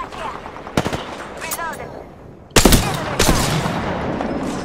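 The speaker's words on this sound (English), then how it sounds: "The enemies are shooting at me." Enemy gunfire in the Apex Legends video game, sharp bursts of shots with a brief lull, then louder, heavier bursts close by over a steady game background.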